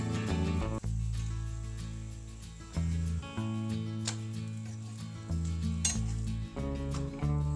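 Wheat flour dosa made with Bombay rava fries on a pan and is flipped, a soft continuous sizzle beneath a steady tonal background with occasional light clicks of the pan.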